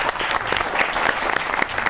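A studio audience at a televised interview show claps for a singer: full, continuous applause from many people, loud and even throughout, with no voices standing out.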